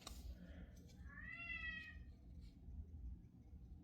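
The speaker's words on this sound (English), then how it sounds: "I love my cat, alright? But he's yelling at me" A pet cat meows loudly in a single drawn-out, rising-and-falling cry about a second and a half long, close by over a low background rumble, with no talking.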